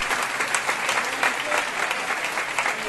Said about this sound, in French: Un fort applaudissement pour les sœurs d'Équateur.